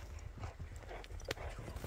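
A horse walks, its hooves clip-clopping in a few soft, uneven steps, faint and at a distance, with quiet background noise.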